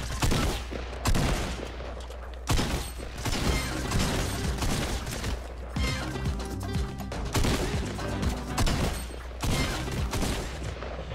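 Sustained rattling bursts of automatic gunfire from enemies in a first-person shooter game, loud and dense with repeated volleys and clattering over a low rumble for the whole stretch, with no voices.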